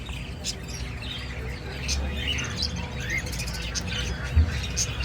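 Pet birds at a bird market in Islamabad chirp and tweet in scattered bursts over a busy background hum, with someone talking throughout.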